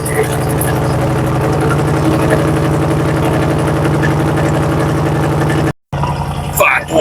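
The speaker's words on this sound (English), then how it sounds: "We can't have a new vehicle on the channel and not do a cold start." A 2025 Dodge Durango R/T with a 5.7-liter Hemi V8 starts cold and settles into a steady, loud, close rumbling idle. The sound cuts out briefly near the end and then returns with some handling noise.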